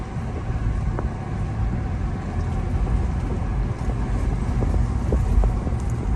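Interior drive of a high-mileage Toyota FJ Cruiser SUV, a steady low engine and road rumble with wind noise running continuously and evenly throughout, no talking.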